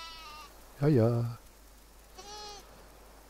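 Sheep bleat in the video game Windborne, one loud wavering bleat followed by a softer second call, close and clear, with a brief spoken word between them.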